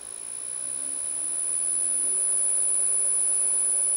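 A single-phase motor drives a solar tracker on an inverter with a steady, smooth electric whine and faint hum, rising slightly at the start and then holding even and moderately quiet.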